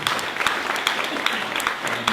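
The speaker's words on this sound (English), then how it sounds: "let's finish with one last round of applause for our speaker, Mr. Jim Hume from Phire." Indoor audience at a holiday-season business talk on branding gives a closing round of applause for the guest speaker, a steady wash of many hands clapping at moderate level, with faint voices mixed in.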